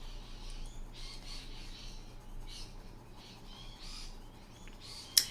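Loud flock of galahs chattering outdoors, a steady wash of high squawks and calls rising and falling throughout, with one sharp louder call near the end.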